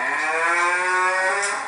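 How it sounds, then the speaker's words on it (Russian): A recorded cow moos in one long, steady, loud bellow with a clear harmonic tone, played back alone without any talking. "как ребята будут реагировать на звук коровы"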